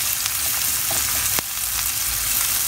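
Onion gently sautéing in a pan for shakshuka sizzles in a loud, even, close hiss, broken by a brief spatula scrape or tap near the middle, with no voices.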